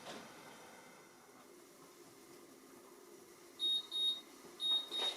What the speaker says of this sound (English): So I'll set the timer for 5 minutes and we'll see how they look.